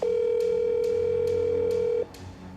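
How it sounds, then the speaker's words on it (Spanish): A single steady ringback tone plays for about two seconds while a call goes through to the personal phone of the Colombian ICT minister, then cuts off into quiet background noise. "Es el teléfono personal de la ministra Karen Abudinen"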